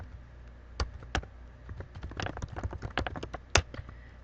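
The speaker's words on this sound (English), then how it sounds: "So once you start typing" Typing on a computer keyboard while writing a journal entry: scattered close key taps, a few sharper strokes standing out among quicker clusters of keystrokes, with no talking.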